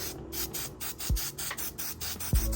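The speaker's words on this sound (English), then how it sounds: "I got some Angelus mink oil. I'm just gonna spray it all around." Rapid repeated bursts of Angelus mink oil spray hiss in a regular pulsing rhythm, close by, onto Air Jordan 5 sneakers, with a couple of low thumps of handling.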